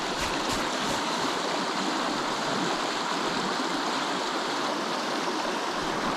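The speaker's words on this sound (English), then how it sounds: "super rushing river, super strong current" A strong, fast river current rushes steadily past a North Georgia campground trout stream, a dense, continuous roar of churning water close by with no voices over it.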